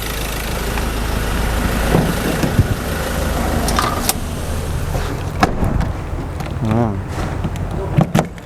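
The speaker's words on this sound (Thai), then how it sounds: "อยากให้ได้ยินเสียงเครื่องยนต์เห็นไหม เครื่องนิ่งเดินเงียบนะครับ นิ่งมากนะเสียงเครื่องยนต์ดีเซลจะเป็นแบบนี้แหละครับ" A 2017 Ford Ranger 2.2-litre diesel pickup engine idles with a steady low rumble, while a person talks over it and a few clicks and knocks sound nearby.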